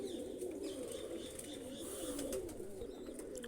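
Several pigeons coo in low, repeated throaty calls from nearby, overlapping in a continuous murmur over faint background noise.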